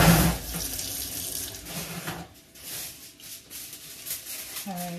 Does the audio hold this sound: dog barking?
no